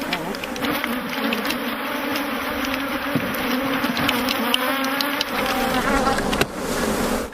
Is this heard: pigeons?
no